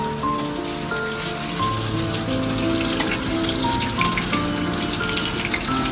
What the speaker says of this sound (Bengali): মাটনের আলু ভাজা